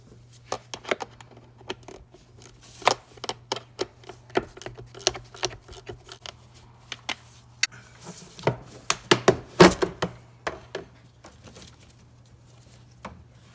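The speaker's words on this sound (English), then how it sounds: "What we could do now is just take an 8mm socket and remove this one bolt." A ratchet with an 8mm socket clicks in quick, irregular bursts while backing out a single bolt near the air induction piece of a 2015-or-later Ford F-150 cooling fan assembly, the taps close and crisp with a steady low hum underneath.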